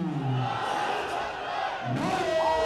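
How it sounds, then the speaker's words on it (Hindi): Large crowd at the Wagah border ceremony between India and Pakistan chanting slogans in loud, sustained rising shouts, with a roaring, cheering crowd throughout. "नारों की आवाज़ है, तालियों की गूंज है, अवाम का शोर है"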